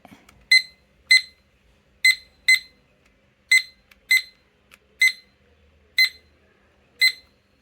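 A study timer's alarm beeps with short, bright electronic chirps, about nine of them at slightly uneven intervals, loud and clear against near silence.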